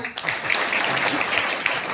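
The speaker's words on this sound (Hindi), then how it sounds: "जोरदार तालियां" Audience clapping at an alumni podcast session, a continuous even patter of many hands that fills the short stretch at moderate level.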